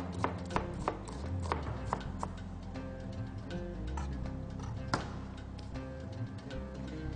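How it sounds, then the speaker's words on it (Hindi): A knife taps rapidly and rhythmically against a cutting board, slicing onion steadily with irregular sharp clicks over a low background rumble. "अब थोड़ा सा प्याज लें और उसको भी स्लाइस कर लें।"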